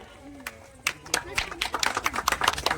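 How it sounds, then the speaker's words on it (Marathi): Scattered claps from a crowd at a Shiv Jayanti celebration held by a youth club in Uchgaon Yadavwadi, starting sparse and building into denser, louder clapping. "त्यांचे टाळ्या अजून मोठ्या आवाजात कडकडात"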